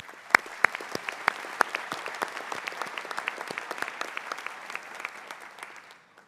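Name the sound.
applause at a graduation convocation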